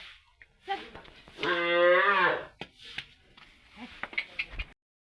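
A cow lets out one long, loud moo, followed by scattered shuffling and soft knocks nearby.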